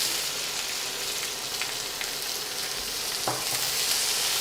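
Onions frying in a hot pan for moong dal, a steady broadband sizzle throughout with a brief clatter near the end, no voices.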